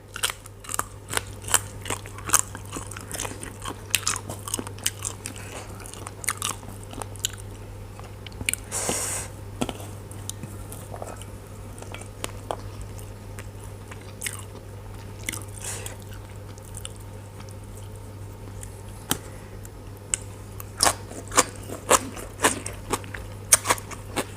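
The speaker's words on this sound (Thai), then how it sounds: "มิงเคี้ยวทั้งกระดูกเลยนะ" Someone chewing chicken bones, a run of crisp crunches and bites repeating irregularly at close range, with no talk over it.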